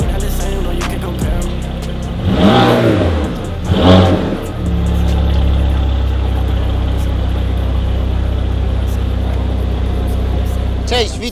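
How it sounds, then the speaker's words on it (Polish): Limited-edition Mercedes-AMG car engine rises in two sharp, loud revs, then drops to a steady rumbling idle. Someone talks over part of it. "Już na pierwszy rzut ucha słychać, że ten samochód naprawdę dużo głośniej brzmi."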